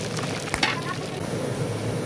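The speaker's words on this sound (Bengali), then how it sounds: "লঙ্কাগুলো দিয়ে দেবো, লঙ্কার পরে দিয়ে দিলাম পাঁচফোড়ন।" Chillies and panch phoron spices hit hot oil with a steady close sizzle throughout, a brief crackle and stirring clatter near the start.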